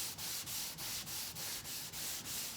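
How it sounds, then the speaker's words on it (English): A flexible Curve Huggr sanding block is worked back and forth over auto body glaze and fine putty, giving about eight even, rhythmic rasping strokes, close and steady. "we'll sand a little bit more."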